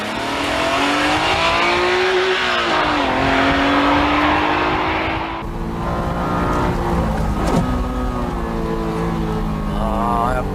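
An old Honda NSX Type S drives past with its engine running steadily, a loud continuous drone that rises and falls in pitch as it accelerates and eases off, close and with no talking over it.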